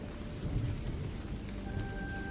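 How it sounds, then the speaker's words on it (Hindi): Steady rain drums on a tin roof outside a shop in a haunted village, a dense continuous patter with low rumbling undertones, alone and moderately loud throughout. "बाहर टीन की छत पर बारिश की आवाज हो रही थी।"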